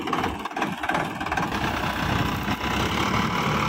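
A 1987 Ford 3610 tractor, 47 horsepower, runs steadily while pulling a super seeder through a field, its engine holding a loud, continuous mid-low drone with a rough, knocking texture and no talk.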